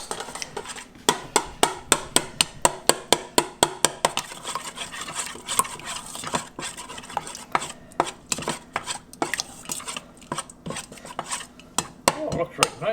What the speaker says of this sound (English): And I guess I'll mix it up because this is all my wet ingredients